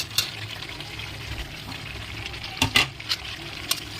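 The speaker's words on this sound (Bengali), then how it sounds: "আলুগুলো দিয়ে একটু নাড়াচাড়া দিয়ে নেব দেখুন" Fried potatoes are stirred into duck curry in a pan over a village-style fire, giving soft, faint scraping and wet sizzling with a few sharper clinks of the spoon.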